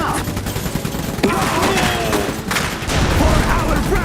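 Dense gunfire and bursts of automatic weapons in an Iron Harvest video game battle, with explosive impacts and shouted soldier callouts mixed over continuous loud combat noise throughout.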